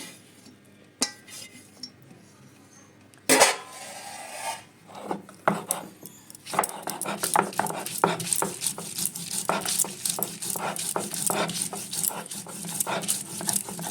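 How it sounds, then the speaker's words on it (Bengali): Taro is ground into a paste with rapid, rough rasping strokes that start after a few scattered knocks and then continue steadily and close, each scrape repeating in an even rhythm. "আমি কচুটা ভালো করে বেটে নিয়েছি।"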